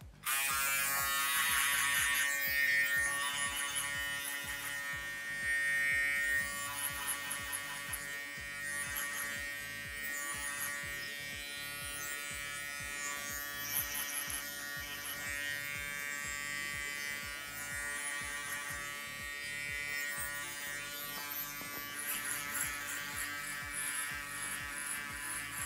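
Electric hair clippers cutting hair in a barbershop, giving a close, continuous buzzing drone that shifts slightly in tone as they move through the hair.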